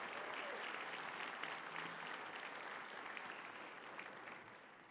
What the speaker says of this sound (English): Could we give her a round of applause